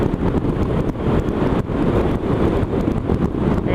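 Steady roaring wind buffets the microphone while riding a Harley-Davidson Iron 883 motorcycle, a constant broadband rush with small gusty fluctuations and no talking.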